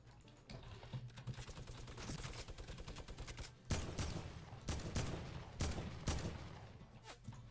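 Video-game gunfire in quick bursts, a dense rattle of rapid shots followed by several louder, sharper single reports, close and with no talk over it.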